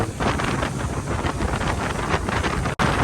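A speedboat crossing the Meghna river from south Hatiya: loud buffeting wind rushing over the microphone with engine and water roar underneath, sustained throughout, cut by a brief dropout near the end.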